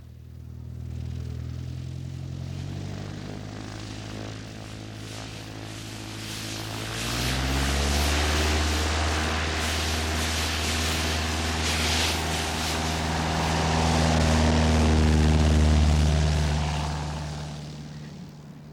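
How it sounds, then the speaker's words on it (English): A propeller plane in the Russian Arctic near Norilsk, arriving at a remote hunter's camp at winter's end to collect fur pelts, its steady engine drone growing louder and swelling toward the end, with no talking. "the hunter's only link with civilization is the plane which comes at the end of winter to take the pelts to Norilsk."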